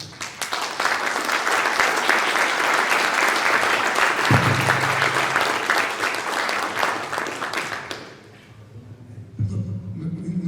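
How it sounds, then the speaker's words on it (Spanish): A crowd applauds loudly and steadily for several seconds, then the clapping fades away, with a brief low voice sound near the end. "a Jorge Ramírez Olmos, para quien pedimos un gran aplauso."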